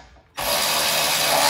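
A ratchet snugs down rear brake caliper bolts on a Dodge Caravan. After a brief quiet start comes a sudden loud, dense run of rapid clicking ratchet strokes, close up and continuous, with no talking.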